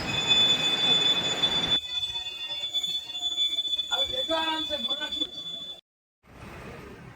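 The Sabarmati Express 12548 on its Ajmer to Agra Cantt run rumbles steadily along the rails after leaving Bandikui, with squealing wheels and clattering joints heard from on board. The noise briefly drops out near the end, then resumes.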